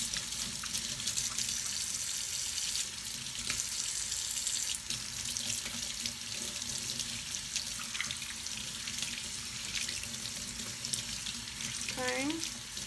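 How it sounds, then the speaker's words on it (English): Kitchen tap water running steadily into a sink as hands are washed, a constant close rushing hiss with a brief squeaky tap turn near the end. "Wash our hands again."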